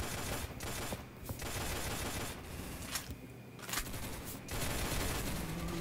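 Rapid gunfire from the Roblox shooter game Arsenal, bursts of shots crackling loudly and almost continuously through the whole stretch with only brief dips between volleys.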